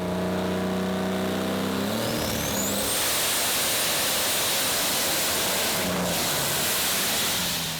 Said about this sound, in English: Easing the throttle forward on his DAF truck engine